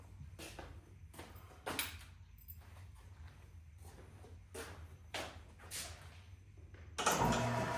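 Triumph T100 Bobber motorcycle being started, with repeated short starter bursts and cranking attempts spaced across the clip before a louder engine catch near the end, fairly quiet overall.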